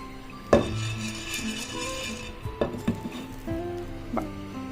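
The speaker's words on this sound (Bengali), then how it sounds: "একটা প্যান প্যানের মধ্যে আমি একটু গোলমরিচ এলাচ লবঙ্গ দারচিনি শুকনো গোলায় ভেজে নেব" Black pepper, cardamom, cloves and cinnamon being dry-roasted in a pan, with a metal utensil clinking and scraping in several sharp knocks over a steady background rattle. The sound is close and there is no talking.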